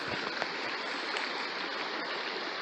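Water of the North Willow stream flows with a steady, close rushing babble that stays even from start to finish, with no voices over it.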